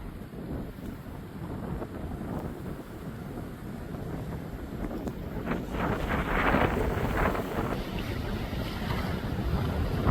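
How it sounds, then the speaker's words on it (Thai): Strong wind blowing at the Mekong riverside in Vientiane, Laos, rumbling continuously against the microphone and growing louder and gustier toward the end. "ลมพัด"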